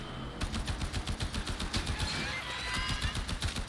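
Rapid automatic gunfire shooting the Jackal boss in Warframe on Fossa, an even stream of close, punchy shots at a fast steady rhythm, loud throughout.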